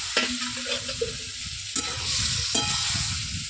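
Potatoes being stirred into spiced gravy in a frying pan, a steady scraping stir over soft sizzling oil, with a few sharper clanks of the spoon against the pan.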